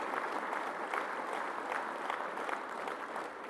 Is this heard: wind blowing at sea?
no